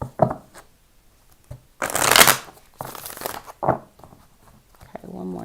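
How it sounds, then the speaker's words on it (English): A deck of tarot cards is shuffled up close in quick bursts of riffling and flicking, with pauses between them, while a voice speaks briefly near the end. "Okay, one more shuffle."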